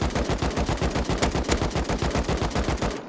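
Loud, rapid automatic gunfire from the video game Rust, a continuous stream of evenly spaced shots rattling for about three seconds before cutting off, with no talking.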